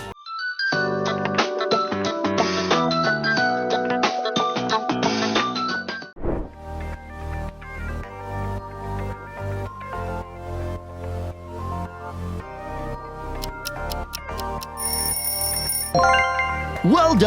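A Nokia phone ringtone chirps out a fast, tinkling electronic tune of clustered notes for about six seconds before a fuller, rhythmic backing track takes over.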